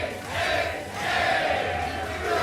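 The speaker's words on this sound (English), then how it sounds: "I hope you guys can hear the crowd." A tournament crowd roars and cheers at a fighting game event, a loud, sustained mass of voices swelling twice across the moment.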